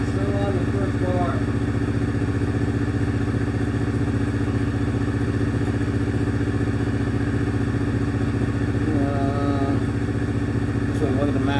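An engine idles steadily with a low, even rumble and faint mechanical clatter, running continuously nearby.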